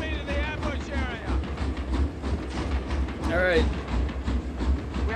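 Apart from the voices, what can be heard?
train moving on rails, from a video game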